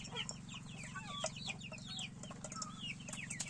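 Chickens at a feeder cluck and chirp continuously at close range over a steady low hum, a busy overlapping chorus of short calls.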